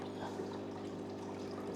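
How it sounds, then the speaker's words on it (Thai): Water spills steadily from the waterfall outlet of an aquarium top filter, a soft, continuous trickle that holds a low, even level throughout. "มีน้ำตกไหลออกมาแบบนี้ครับ"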